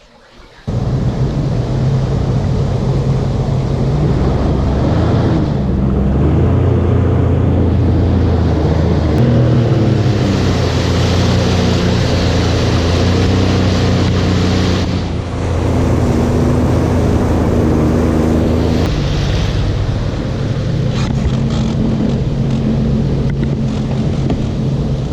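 Several jet skis idle and run through floodwater in flooded Houston, making a loud, continuous engine drone with a low throbbing hum that rises and falls. Wind buffets the microphone throughout.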